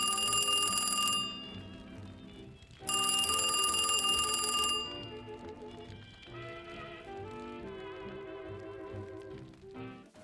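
A game telephone sound effect rings in two loud, buzzing bursts separated by a short pause, followed by quieter tonal music-like sound, with no voices.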